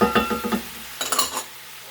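A spoon stirs balsamic vinegar and sugar into a paste in a skillet, making a few quick scraping strokes against the pan over a light sizzle, close and with no voices.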